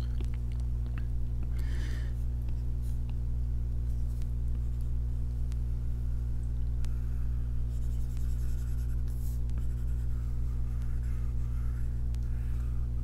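Stylus strokes on a drawing tablet in Procreate, a faint steady scratching of short pen lines over a constant low electrical hum, with no talking.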